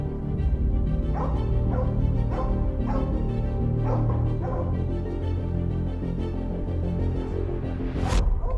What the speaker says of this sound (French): Vous entendez bien les chiens aboyer là-bas.